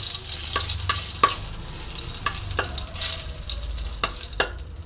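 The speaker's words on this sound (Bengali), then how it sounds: "আমি প্রথমে একটুখানি সাদা জিরে ফোড়ন দিচ্ছি, খুব সামান্য।" Cumin seeds, a torn bay leaf and two dried chillies sizzle in hot oil over a lowered flame, a steady close hiss with several sharp crackles and pops spread through it.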